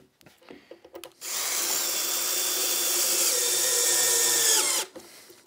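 A power drill drives dome-head pocket hole screws into a wooden shelf joint, a single steady whirring run of about four seconds with a sharp start and stop, close and loud, preceded by faint handling clicks.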